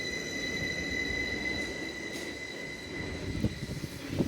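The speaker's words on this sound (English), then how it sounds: "745005 departs for Liverpool Street only." Class 745 electric train departing Stratford station for Liverpool Street, a low rolling rumble with a steady high whine held over it, moderately quiet with a few clunks near the end and no speech.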